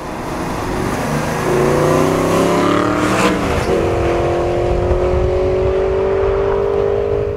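An Aston Martin V8 Vantage N430 with its 4.7 litre V8 drives by loudly and close, the engine note climbing through the revs, dipping briefly on a shift, then holding a steady strong drone, with no talking.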